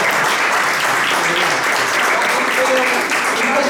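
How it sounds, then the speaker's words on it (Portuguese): Church congregation at a youth worship service giving a round of applause: continuous, dense, loud clapping from many people, with voices faintly mixed in. "Eu queria pedir uma salva de palmas"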